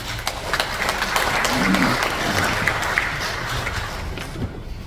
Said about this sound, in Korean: 한미 동맹의 주역 백선 장군 박수로 맞이하겠습니다